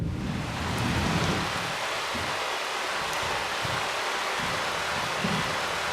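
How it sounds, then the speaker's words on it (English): Intense monsoon rain in India pours down in a dense, steady hiss, loud and continuous, with occasional low rumbles underneath. "The monsoon in India is typically bunched into spells of intense rain."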